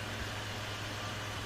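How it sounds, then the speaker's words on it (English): A computer cooling fan makes a steady, loud whirring hum with a low droning tone, constant and unchanging, running close by with no other sounds. "I apologise by the way if you can hear my computer in the background"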